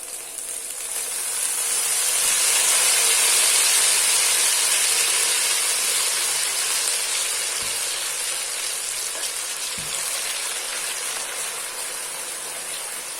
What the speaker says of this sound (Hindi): अब हम इसमें डाल देंगे ये सूजी जो हमने भिगो के रखी हुई थी